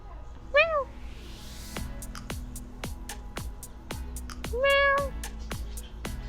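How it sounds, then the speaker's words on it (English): A gray cat meows twice, a short call early and a longer one later, in a veterinary clinic, while sharp tapping clicks repeat steadily in the background. "the gray one over there is meowing"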